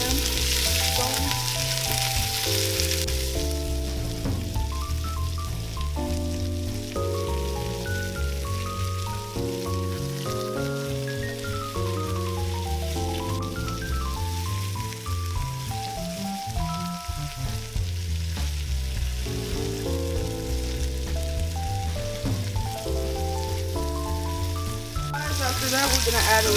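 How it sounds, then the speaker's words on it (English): A lamb bone fries in a hot pan, giving a loud, continuous sizzle and crackle close up. Steady tonal music plays over it throughout. "we are gonna cook both sides of the lamb bone"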